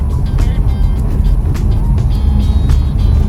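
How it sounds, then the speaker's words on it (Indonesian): From inside the cabin of a new electric car driving slowly through a residential area, tires roll over a paving-block road, making a constant low rumbling drone with a faint, even texture and no breaks. "suara konbloknya itu udah berasa jauh ya, dan tidak mengganggu di dalam kabin nih"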